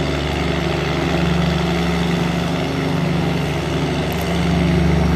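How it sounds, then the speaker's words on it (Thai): Small longtail motorboat engine towing a sand barge, a steady loud droning hum with a low rumbling tone running continuously throughout, close and dominant with no talking. "ให้ได้ฟังเสียง เรือยนต์นะครับ"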